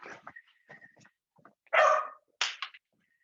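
A dog gives two sharp, loud barks close by, preceded by softer yips and whimpers, in an otherwise quiet indoor setting.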